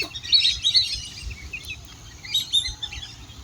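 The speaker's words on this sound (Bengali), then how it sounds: "হাঁসগুলো, অতিথি পাখিগুলো কিচিরমিচির করে ডাকতে থাকে," A flock of migratory ducks on a pond in winter: scattered high twittering and chirping calls at moderate distance, in clusters with quieter gaps, over low background rumble.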